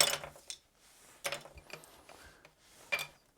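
Plastic attachments click and clatter onto a Shark IZ251UK cordless vacuum, with several separate sharp snaps and rattles spaced out amid quiet handling noise.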